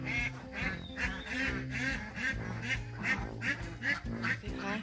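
A flock of farm ducks quacks repeatedly nearby after a storm damaged their pen, loud overlapping calls in an uneven rhythm.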